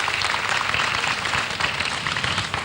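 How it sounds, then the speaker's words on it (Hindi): Audience applause for a guest named Sakshi at a televised evening event, a dense continuous wash of clapping that stays loud and steady throughout, with no voices over it. "ताली एक बार बजा देते हैं साक्षी के लिए।"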